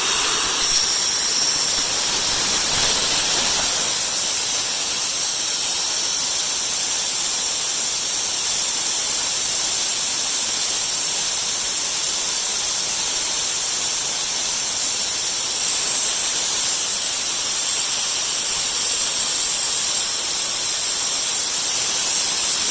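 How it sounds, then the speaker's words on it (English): Propane vapor vents from the bleeder valve of a tank while a propane tractor is filled, making a loud, continuous hiss that stays steady and close throughout. "I will vent the other vapor."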